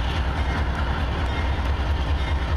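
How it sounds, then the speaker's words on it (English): A westbound intermodal freight train led by unit 7292 rumbles past close by in a continuous low roar, with rhythmic wheel clatter over the rails. "on this westbound train we have"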